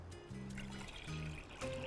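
Ready-made caramel cream sauce trickling and pouring in a steady, close liquid stream while chocolate pudding is being made in a kitchen, continuous and moderately quiet, with no talking.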